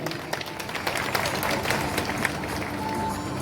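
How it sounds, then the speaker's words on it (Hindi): An audience at a formal ceremony with BJP OBC Morcha officials breaks into applause for the guests, a dense, steady wash of many hands clapping together throughout, with some voices mixed in. "हमारे मेहमानों के लिए तालियां जरूर बजाइए"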